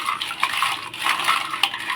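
Raw crabs are washed with turmeric in a vessel, giving close, irregular clinks and knocks of shells against metal with light splashing water, in short uneven bursts.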